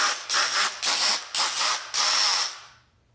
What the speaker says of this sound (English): the sanding attachment works too